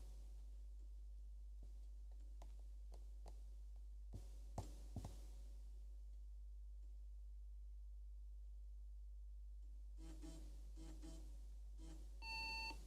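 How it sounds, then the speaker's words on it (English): An IBM PS/2 Model 70 computer gives a short electronic beep near the end, standing out over a steady low hum with scattered faint clicks and taps during the quiet stretch before it. "Beep."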